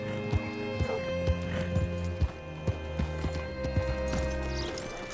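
Horse hooves clip-clop in Red Dead Redemption 2 as a rider arrives to hitch up, an uneven series of close, sharp thuds over a low ambient hum.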